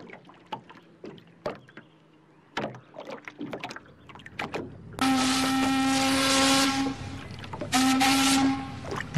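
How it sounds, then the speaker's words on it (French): Long, loud blasts of an arriving ship's horn, two sustained steady tones separated by a short gap, preceded by scattered knocks and clatter. "Vous entendez cette sirène? C'est le bateau qui arrive."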